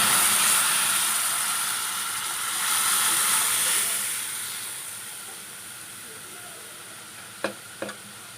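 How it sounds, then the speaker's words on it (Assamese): Boiled dal goes into a hot pan for an Assamese elephant apple fish curry and meets it with a loud broad hiss and sizzle that fades steadily. A couple of sharp clinks of a utensil follow near the end. "এতিয়া মই বইল দাইলখিনি ইয়াত বাকি দিছোঁ।"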